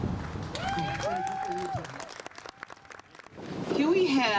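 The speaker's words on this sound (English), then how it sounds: "Can we have another round of applause for our elder, Mr. Robert?" Applause and cheering from an audience at an outdoor Juneteenth 2021 celebration in Benicia, California, a scattered crowd clapping that swells toward the end, with voices talking over it.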